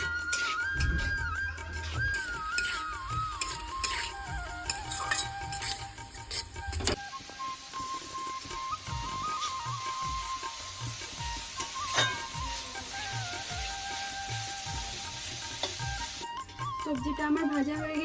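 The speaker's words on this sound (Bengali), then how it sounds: "এবার ভালো করে নেড়ে নেব" Vegetables seasoned with salt, turmeric and cumin powder fry in a pan while being stirred, with a constant moderate sizzle punctuated by scraping and tapping of the spatula.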